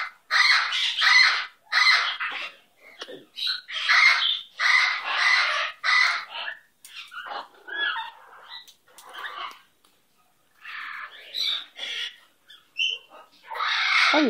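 A pet bird squawks again and again in short harsh bursts, close and loud, with brief pauses between calls and no talk over it.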